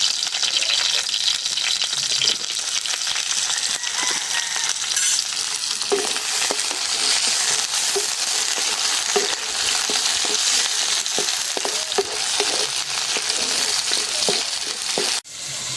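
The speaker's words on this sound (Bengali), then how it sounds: "এখন আমি তেলটা গরম হয়েছে পেঁয়াজ রসুন মরিচ সব দিয়ে দাও" Onion, garlic and chilli frying in hot oil for a river pabda fish bhuna: a loud, dense, unbroken sizzle fills the whole stretch, with light stirring clatter and a sudden knock near the end.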